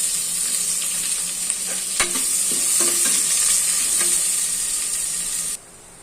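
Thinly sliced onions fry in hot oil with whole spices for egg biryani: a loud, close, continuous sizzle and hiss with scraping stir strokes, cutting off abruptly near the end.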